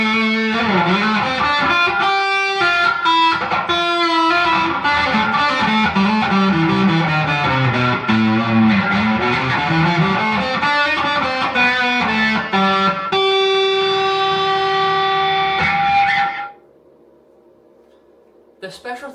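Electric guitar on its bridge pickup through heavy distortion, loud riffs and sustained chords for about sixteen seconds before cutting to near silence with a few faint notes.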